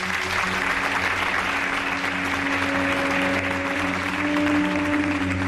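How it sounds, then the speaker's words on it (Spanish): Sustained applause from an audience for a monastery's Father Superior, a steady dense wash of clapping throughout, fairly close and loud, with no voices over it. "Os pido un aplauso para el Padre Superior del monasterio, que es Fernando Ruiz Valero."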